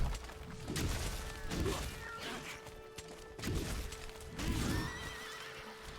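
A person imitates a horse whinny several times in a row, each a loud, wavering nasal neigh with pauses between, close to the microphone over a quiet background with a steady hum.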